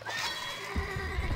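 A horse whinnies loudly amid a busy, noisy scene, with a low thumping rumble underneath that could be hooves.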